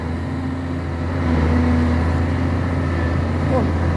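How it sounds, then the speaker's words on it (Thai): A low, steady KOBECO Mark 6 Super excavator engine rumble runs throughout, with a brief rise in intensity partway through; the motor drones continuously up close. "เสียงเครื่องยังวาอยู่เลย"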